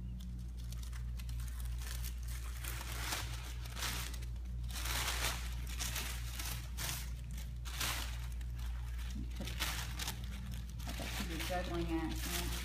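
Tissue paper is crumpled and crinkled by hand while a paper flower is shaped, with repeated bursts of crinkling through steady low background hum, the rustles close and fairly loud.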